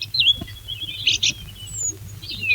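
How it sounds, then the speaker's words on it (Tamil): Sparrows chirp close by in a rural setting, with several short, sharp tweets and bright trills scattered over a low background hum and no speech. "குருவிகளோட சத்தம்"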